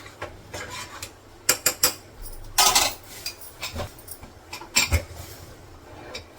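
A spoon mixing khichdi rice in a metal pot, giving scattered scrapes and clinks against the pot, with a few louder bursts of rubbing, up close and without talk.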